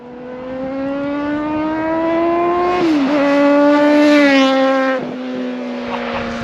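A Triumph TT600 motorcycle engine, a steady, loud drone rising and falling in pitch as it revs and shifts, heard from outside, continuous and close.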